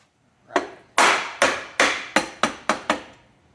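Rubber mallet tapping a part into place on a Bridgeport milling machine head, seven dull thuds in a loose, quickening rhythm, close and fairly loud, with no talk.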